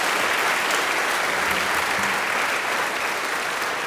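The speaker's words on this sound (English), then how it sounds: "Let's give a round of applause for Mr." An audience at a school honors assembly gives steady, dense applause. The clapping is loud and even and lasts several seconds without a break.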